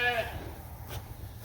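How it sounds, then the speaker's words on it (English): Ewe lambs bleat briefly in a barn at the start, a single short call fading into low, steady shed noise and faint background rustle. "These are all ewe lambs."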